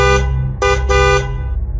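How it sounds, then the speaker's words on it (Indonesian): A car horn honks three times in quick succession, loud and close: one longer blast, a brief gap, then two more. "Tiba-tiba terdengar suara klakson di telinga kami."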